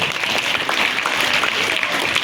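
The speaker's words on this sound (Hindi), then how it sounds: "मैम के लिए जोरदार तालियां बजाइए।" Students at a school Hindi Day celebration clap loudly for their teacher, a brisk, crowded burst of many hands that stays close and even for a couple of seconds, with no voices over it.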